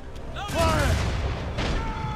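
Ship cannons firing in Assassin's Creed Rogue, a heavy booming volley that erupts suddenly and rumbles on, with a second blast following over a noisy battle backdrop.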